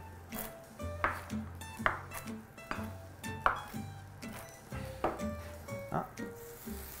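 A herb omelette with cheese cooks in a pan, a soft sizzle broken by repeated light clinks of utensil on pan, close and steady, with a little talk in the background.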